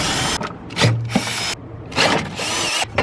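A ratchet wrench loosens 10 mm bolts holding a panel on a Miata, with bursts of rapid clicking pawl sounds broken by short pauses, close and loud.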